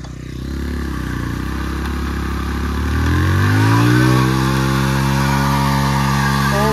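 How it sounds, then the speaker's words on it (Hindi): Motorcycle engine revving hard during a drift stunt, loud and close, its pitch rising steadily as the rear tire works, with faint scraping clatter and no talk. "आपको दिखाने वाला हूँ ड्रिफ्ट कैसे लगती है, बाइक में से धुआं निकलेगा या नहीं"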